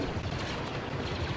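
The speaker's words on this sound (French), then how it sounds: "Voilà ce que c'est la sentinelle explosive. Ça crache des mini-explosions en sorte." An explosive sentinel firing mini explosions in the Star Wars Battlefront II video game, a dense rapid crackle of small blasts with a loud, continuous, rumbling texture and no talk.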